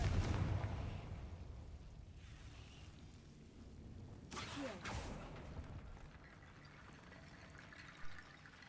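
A Confringo blast spell from a Harry Potter video game bursts once midway as a sudden broad whoosh-boom, set against a quiet, low rumbling game backdrop with a smaller thump near the end.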